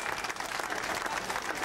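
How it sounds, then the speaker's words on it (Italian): Dense, sustained applause from a large crowd, a continuous wash of clapping that stays loud and even throughout. "un applauso bello, ve lo meritate"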